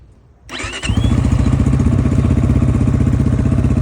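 A 2025 Geon Dakar GNS 300 enduro motorcycle engine cranks and catches after a brief quiet moment, then settles into a loud, close, steady idle with a fast even pulse.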